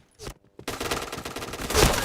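Rapid bursts of gunfire in a multiplayer shooting game, heard after a brief quiet gap as a dense, loud rattle that continues to the end.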